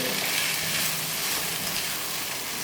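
Okra frying with spices in a pan: a steady, close, even sizzle of hot oil that holds at one level throughout, with no voice over it.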